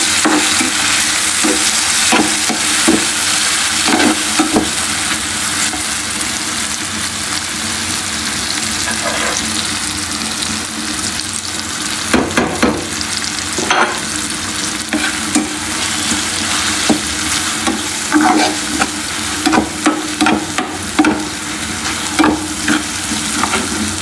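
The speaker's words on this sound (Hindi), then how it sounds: "अच्छे तरीके से फ्राई करेंगे।" Softened tomatoes and spices fry loudly in a pan, a dense continuous sizzle broken by frequent scraping stirs that come in bursts, heaviest in the second half; no one talks.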